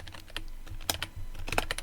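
Quick keystrokes on a computer keyboard while typing a Linux terminal command, close crisp clicks in short bursts with a few sharper taps, no talk.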